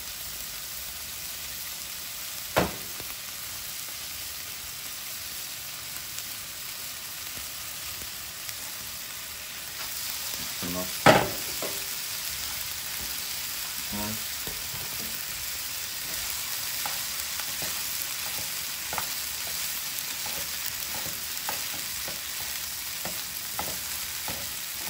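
Rice with small shrimp stir-frying in a pan, a steady soft sizzle throughout with occasional sharp clicks and scrapes of a utensil, close but fairly quiet.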